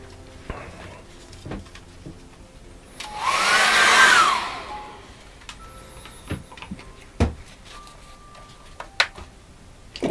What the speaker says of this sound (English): I'm going to dry that off very quickly.